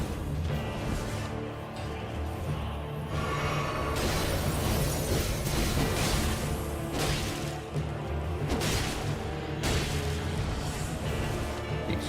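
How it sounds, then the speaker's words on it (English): A rumbling explosion goes off during combat in Elden Ring, its dense, crashing roar filling the scene alongside whooshing attack effects, loud and sustained with repeated bursts. "Explosion."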